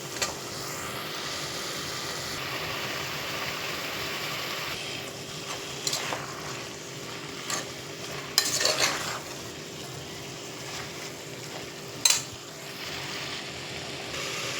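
Chopped vegetables sautéing in a pan for veg biryani, a low steady sizzle broken by occasional stirring scrapes and clinks of a spoon.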